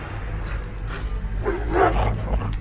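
Fierce dogs barking and yipping at moderate distance in a spooky horror setting, several overlapping barks and whimpers, building in intensity toward the end.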